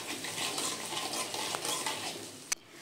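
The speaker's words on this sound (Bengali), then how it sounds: "এবারে আলুটাকে নেড়ে চেড়ে নিয়ে 4 থেকে 5 মিনিটের জন্য হালকা করে ভেজে নেব।" Potatoes being stirred and fried in oil, a gentle steady sizzle with scraping spatula strokes and a single clear clink of metal on the pan near the end.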